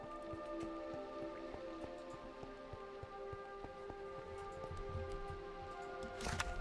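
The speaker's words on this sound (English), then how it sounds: "It's raining." Rain falls in a Minecraft world, a steady patter with scattered sharp ticks of drops striking surfaces, even and continuous throughout.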